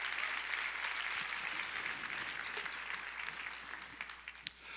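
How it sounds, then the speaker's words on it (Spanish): A church congregation claps during a sermon, giving a continuous, fairly soft patter of many hands that thins slightly toward the end, heard from some distance with no talk over it. "Dale más fuertes aplausos al Rey de Reyes y Señor de Señores."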